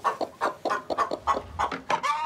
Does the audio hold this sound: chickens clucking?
yes